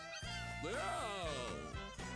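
Newborn kitten in the game Mewgenics giving a single drawn-out meow, rising then falling, loud and close over a steady musical background.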